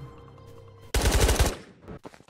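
Automatic gunfire in the VR shooter game Ghosts of Tabor, a sudden loud rapid burst of about half a second that follows a quieter stretch and fades into faint trailing sounds.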